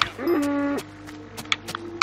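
Cows in the video game Minecraft give one drawn-out moo near the start, followed by scattered sharp clicks and a faint steady hum.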